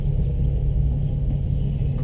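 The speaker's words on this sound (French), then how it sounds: "Il y a des Ferrari et des Porsche qui arrivent derrière" Ferrari and Porsche sports cars roll in at a Z-days 2015 car meet, heard as a steady, loud, low engine rumble that holds constant throughout with no speech.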